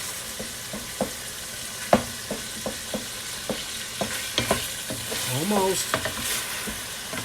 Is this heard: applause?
no